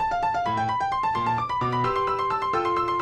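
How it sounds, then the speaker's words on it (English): A MIDI, bright synthesized video game melody over bass and steady percussion, continuous and alone. "I'm going to go ahead and play this MIDI."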